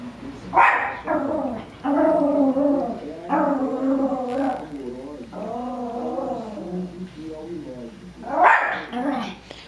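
A dog growling and barking at its own reflection in a mirror, giving drawn-out growly, whining vocal bursts in a steady series, close and fairly loud.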